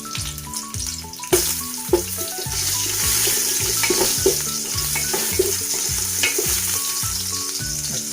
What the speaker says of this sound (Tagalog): maglalagay na po tayo ng oil. Ayan. Yan, uunahin ko na po itong loya.